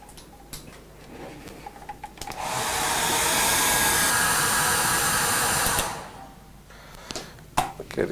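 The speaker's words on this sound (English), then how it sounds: "So let's zap him with a hairdryer." A hairdryer blows on acrylic texture paste in a steady, loud whoosh lasting about three seconds, with quieter clicks and handling noises before and after.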